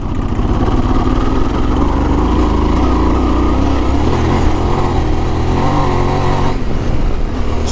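A Yamaha Tenere 700 motorcycle pulls uphill in third gear from about 1,500 RPM, its engine a loud, steady, close-up drone with dense low rumble and no other sounds over it.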